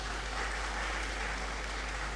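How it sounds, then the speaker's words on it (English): Audience at a university memorial lecture clapping, a dense, steady wash of many hands from across a hall, even in level with no voices over it. "Please, another round of applause."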